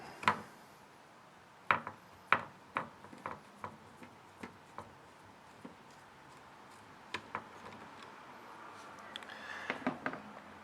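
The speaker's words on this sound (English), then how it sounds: "Now we'll unscrew the second one." A screw on a Toyota Sienna tailgate handle is unscrewed, giving a series of quiet metallic ticks and clicks from the tool at an uneven pace, close by in a quiet setting.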